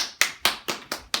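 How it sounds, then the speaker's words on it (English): Studio audience applause for a guest on a talk show, heard as about five distinct, evenly spaced claps rather than a dense ovation, fairly close and moderately loud. "Give a round of applause to Jennifer Jenkins"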